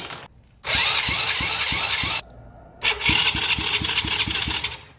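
A Daelim Citi 100 motorcycle with a wet, fouled spark plug cranks in two bursts of rapid rhythmic starter chugging, each stopping without the engine catching, close and loud.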